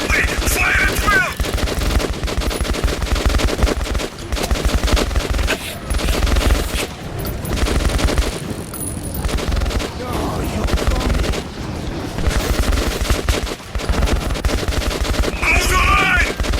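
Continuous dense gunfire in the video game Metro 2033 Redux: rapid automatic bursts and booming shots blend into a loud, almost unbroken barrage, with shouted voices scattered through it.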